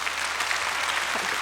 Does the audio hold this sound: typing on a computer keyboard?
no